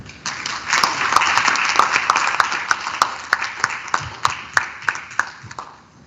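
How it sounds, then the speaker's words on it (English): Audience applause at a forest and climate (REDD+) conference, a steady wash of clapping that thins toward the end into a handful of distinct, evenly spaced claps. "a huge round of applause and gratitude to our wonderful speakers"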